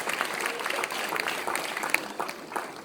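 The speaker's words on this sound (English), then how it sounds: "Round of applause, ladies and gentlemen" Audience applause at an awards presentation for a boys' competition final, a steady wash of many hands clapping at moderate volume with a few sharper individual claps standing out.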